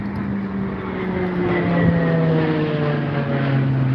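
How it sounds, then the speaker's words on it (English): A small military MiG jet passes overhead near Dublin on its way back to Baldonnel, a steady moderately loud engine drone with slowly falling tones, swelling slightly and sustained throughout, no talking. "That's a little military MiG, I think. It's on its way back to Baldonnel."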